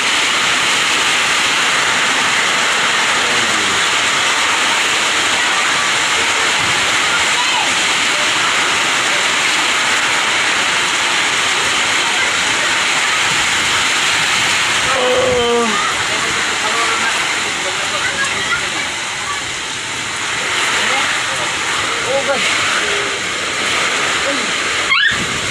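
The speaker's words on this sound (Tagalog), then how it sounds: "Update sa bagyong uwan." Typhoon Uwan on Biliran: a continuous roar of heavy rain and gusting wind, loud and close, with a voice speaking briefly partway through.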